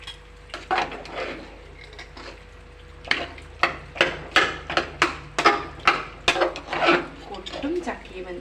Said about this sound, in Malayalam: നമുക്കൊന്ന് ഇളക്കി കൊടുക്കാം നന്നായിട്ട് ഇളക്കി യോജിപ്പിക്കണം